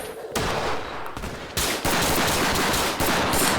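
Machine-gun fire in a Roblox shooting game: dense, rapid bursts of automatic shots run almost without pause, loud and close, with a brief lull near the start.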